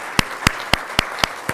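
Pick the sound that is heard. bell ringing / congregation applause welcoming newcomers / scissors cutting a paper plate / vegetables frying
congregation applause welcoming newcomers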